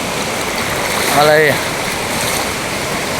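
A waterfall on the Cachaço river rushes with a steady, close wash of water while someone briefly speaks over it.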